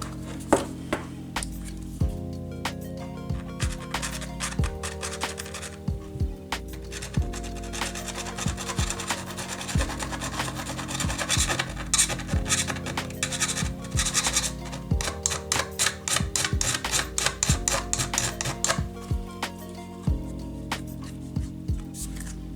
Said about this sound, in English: So just want to file any sharp edges off.